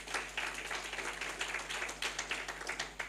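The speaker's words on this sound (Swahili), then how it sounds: "Wapigieni makofi." A church congregation at a Sunday service applauds its partners with a sustained, fairly faint patter of many hands clapping over a low background hum.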